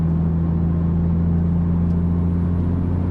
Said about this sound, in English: there is a little bit more lag before that turbo spools up, but then it comes on strong